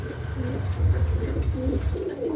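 A pair of nun pigeons coo close by in soft, repeated rolling phrases that continue without a break.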